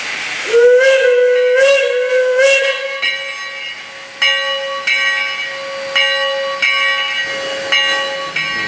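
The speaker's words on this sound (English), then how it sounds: "So the whistle on this engine tonight is a single note whistle" A loud single-note steam whistle on Sierra Railway No. 3 blows one sustained note with a breathy hiss, starting in short blasts and then holding steady while clanks sound behind it.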